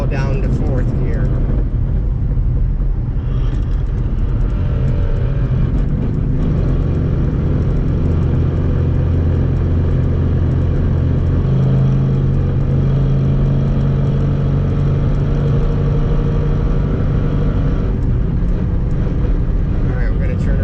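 Car with a BC Stage 3 transmission driving in fourth gear, a loud continuous engine and road drone with wind noise, while a person talks over it.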